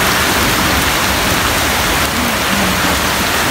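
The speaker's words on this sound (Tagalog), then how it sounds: "humina po itong ulan na ito" Heavy rain pours down during a typhoon in a flooded street, a dense, loud and unbroken hiss of water striking surfaces, with no voices.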